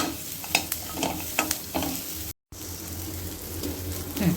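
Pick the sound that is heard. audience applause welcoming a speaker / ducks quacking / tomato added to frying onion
tomato added to frying onion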